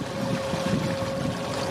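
A solar-powered boat with an electric motor runs on the water, giving a steady, continuous hum with a constant tonal whine over broad rushing water and wind noise, close and even throughout.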